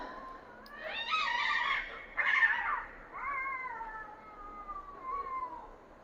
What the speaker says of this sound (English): we have cats in our yard